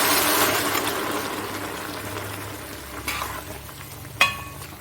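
Chicken pieces frying in a pan with jackfruit seed roast masala, a steady close sizzle that gradually softens, with a couple of brief stirring scrapes and a sharp clink near the end; no talking.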